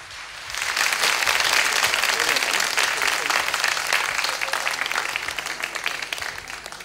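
An audience at a Turkish folk music program applauds, a full, sustained burst of clapping that swells quickly and holds steady, easing slightly toward the end.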